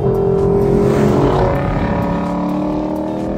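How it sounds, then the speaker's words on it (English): A 2018 Lexus LC 500 V8 at wide open throttle, roaring loud and close as a steady, deep engine note holds for several seconds and eases slightly toward the end. "The V8 at wide open throttle sounds menacing, and power builds all the way to redline."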